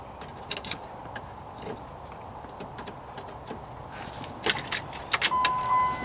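Keys jingling and turning in the ignition of a Dodge Hemi with a P0340 camshaft sensor fault, soft clicks and rattles building near the end into a faint electronic chime, quiet and close.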